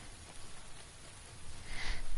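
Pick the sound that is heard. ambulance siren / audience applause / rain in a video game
rain in a video game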